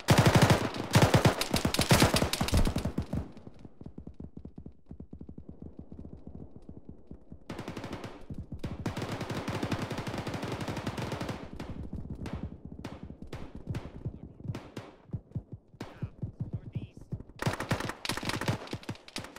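Gunfire in the Arma video game during a ShackTac session: dense rapid bursts up close, a lull with distant rattling fire, then more sharp individual shots and bursts returning loud near the end.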